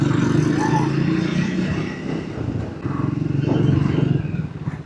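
Road traffic heard from a moving motorcycle in light, flowing traffic: a continuous rumble of the engine and passing vehicles with wind noise and occasional swells, steady and fairly loud throughout.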